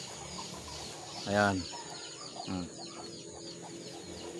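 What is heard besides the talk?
chicken clucking while perched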